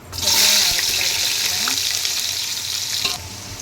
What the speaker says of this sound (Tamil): ஆயில் ஹீட் ஆயிடுச்சு பட்டை கிராம்பு ஏலக்காய் கல்பாசி எல்லாம் போட்டுக்கலாம்